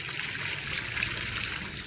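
Water trickling steadily from a garden tap or pipe outdoors in a simple rural setting, a soft continuous hiss and dribble at moderate closeness with no talking.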